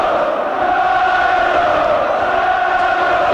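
A boxing arena crowd roars steadily for Nigel Benn during his first fight with Steve Collins, a loud, continuous wall of cheering and chanting voices.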